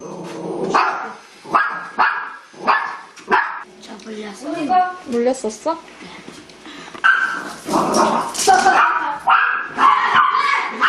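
A fearful, aggressive pet dog barks and yips repeatedly in a home, loud and close, with whimpering tones mixed among the barks while people talk over it.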